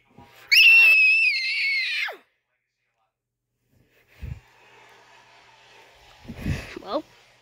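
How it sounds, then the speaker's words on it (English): A loud, shrill, sustained scream lasts about a second and a half, followed by silence, then a couple of thuds and muffled voices. "What's all that screaming?"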